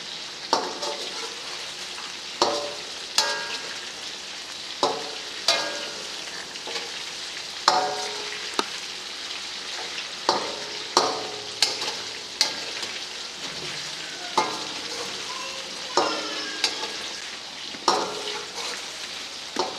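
Chicken pieces fry in a karahi for a Peshawari charsi karahi, cooked until golden. A steady, close sizzle runs throughout, punctuated by regular scraping strokes of stirring every second or two.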